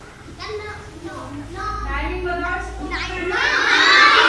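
A crowd of schoolchildren at a class shouts together, overlapping young voices growing louder and more excited toward the end, with some talking among them.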